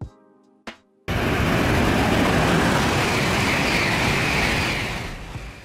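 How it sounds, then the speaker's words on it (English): A high-speed train rushes past at close range, a sudden loud broadband roar that holds steady for several seconds before beginning to fade, preceded by a brief quiet moment with a short sharp sound. "High-speed train, a train designed to operate at speeds typically exceeding 250 kilometers per hour"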